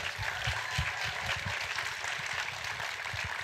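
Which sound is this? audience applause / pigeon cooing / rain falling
audience applause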